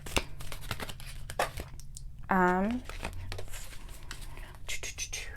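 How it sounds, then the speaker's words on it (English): Positive affirmation cards are shuffled close by with papery flicks and rustles in quick bursts, while a person talks softly over them. "shuffle through the positive affirmation cards"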